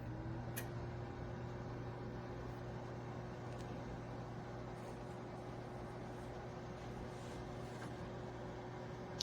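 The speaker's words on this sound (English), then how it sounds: "I already have it preset for 18 minutes air fry, and you just hit the start button." A Gourmia French door air fryer oven runs with a steady low fan hum and faint electrical whine, quiet and constant, with a few small clicks scattered through.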